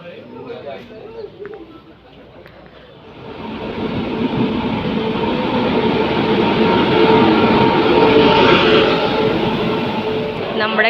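A train rolls through Ernakulam North railway station, its rumble swelling after a few quieter seconds of ambient noise and voices into a loud, sustained roar of wheels and carriages.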